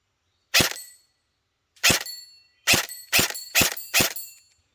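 BBs fired from a full-auto Barra 400e BB gun strike a steel target outdoors, giving six sharp, ringing metallic hits: one, a pause, then a quick burst of four plus one more, each fading briefly.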